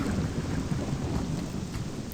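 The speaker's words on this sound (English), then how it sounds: "It is still raining." Steady rain in the video game Morrowind, a dense hiss with low rumbling that suggests distant thunder, holding at an even level throughout with no voices.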